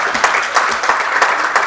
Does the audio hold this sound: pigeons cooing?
no